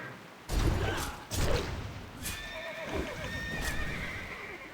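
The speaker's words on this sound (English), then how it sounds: "Horses are kind of cranking me." Horses in World of Warcraft's Gilneas City neigh and whinny loudly in a couple of sharp calls, with hooves clip-clopping and combat sounds around them in the game.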